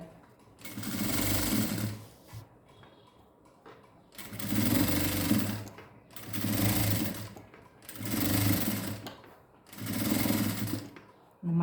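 A sewing machine stitches a blouse sleeve design in five steady bursts separated by short pauses, with the stop-and-start pattern of careful seaming close by.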